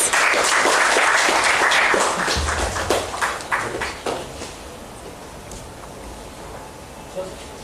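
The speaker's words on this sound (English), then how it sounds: "Can we have a round of applause," Audience applause at a tribute event honouring a doctor's life's work, loud clapping at first that thins into scattered claps and fades out within a few seconds.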